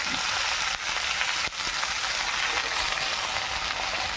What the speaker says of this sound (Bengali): আমি এই যে কমলি শাকগুলো দিয়ে দিচ্ছি।